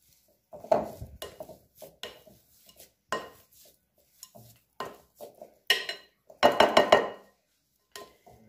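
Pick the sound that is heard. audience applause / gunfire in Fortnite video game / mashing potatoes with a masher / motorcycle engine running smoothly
mashing potatoes with a masher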